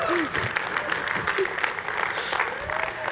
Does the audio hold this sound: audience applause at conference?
yes